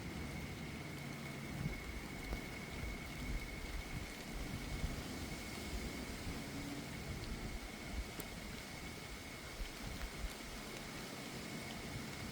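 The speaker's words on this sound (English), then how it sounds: "I'm gonna have to move up front because it's starting to rain now pretty hard." Hard rain during a thunderstorm, a steady hiss with scattered drops and low rumbles, fairly faint and continuous.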